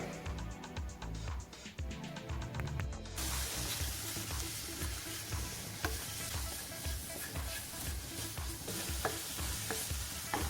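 Sauce for a vegetarian mushroom white-sauce pasta is stirred in a pan over a medium flame, making a steady sizzle with scraping spoon strokes that carry on through the whole stretch, close and fairly loud, with no talking.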